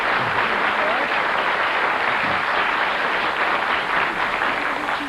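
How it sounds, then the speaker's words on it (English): A 1972 television game-show studio audience claps together in a dense, steady burst of applause that stays loud and even throughout. "That deserves applause"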